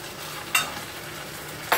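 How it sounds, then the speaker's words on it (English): Steady sizzling of hot dogs frying in a pan, with two brief louder bursts of crackle as things shift in the hot oil. "So they're starting to sizzle now."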